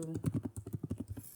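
Quick, close clicking of computer keys in an irregular rapid rhythm, with a voice speaking over the keystrokes.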